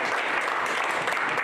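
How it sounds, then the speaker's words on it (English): Brief burst of dense group applause at a startup accelerator bootcamp session, a steady wash of many hands clapping close and even for its short length. "A round of applause"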